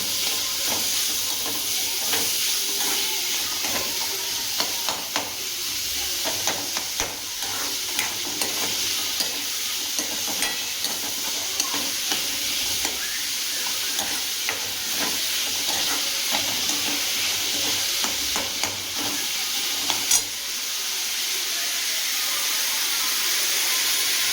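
Chopped onion fries in hot oil until soft and reddish, giving a long, even, close-up hiss and sizzle that runs without a break, dotted with faint clicks of stirring.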